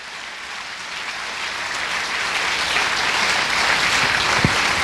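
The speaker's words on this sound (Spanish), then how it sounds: "Dele el aplauso al Rey de Gloria." A church congregation applauding during a worship service, a dense, continuous clapping that builds gradually in loudness across the whole stretch and fills the space with no break.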